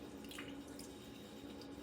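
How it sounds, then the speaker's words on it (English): Water poured into a roasting pan around a seasoned brisket sitting fat side up, a faint steady trickle under a constant low background hum, with no voices. "Adding water around it."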